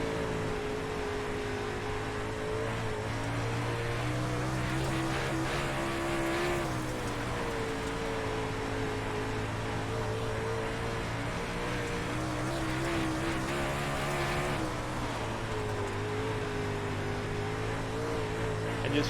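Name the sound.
Super Dirt Late Model race car engine in iRacing video game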